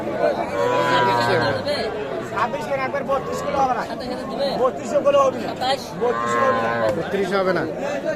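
Cattle and calves at a livestock market moo repeatedly, with two long, loud calls near the start and toward the end, over steady crowd chatter and people talking nearby.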